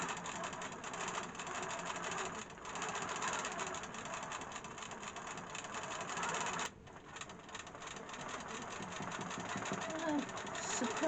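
A domestic sewing machine runs steadily while free-motion travel stitching circles on fabric, a continuous whirring hum with a rapid needle rhythm that stops briefly and then resumes, close by.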